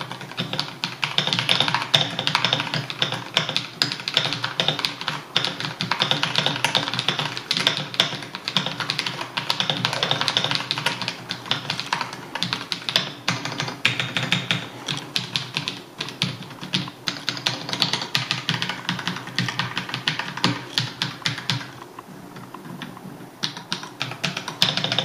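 Typing on an Akko 5075B mechanical keyboard with fairly soft switches, a close, dense and continuous run of quick keystroke clicks that carries on steadily and eases briefly near the end, with no voices.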